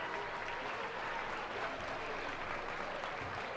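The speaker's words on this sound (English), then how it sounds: "Another big round of applause for our final heat of intermediate showmanship" An audience at a youth livestock show applauds the final heat of intermediate swine showmanship: steady, dense clapping that holds at an even level throughout, with no voice over it.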